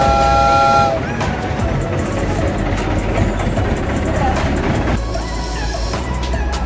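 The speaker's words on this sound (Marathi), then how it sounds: "इथे एक मिनी टॉय ट्रेन पण आहेत" A mini toy train at Elephanta Caves sounds a tonal whistle at the start, then rumbles and clatters loudly nearby, with another brief whistle-like tone later.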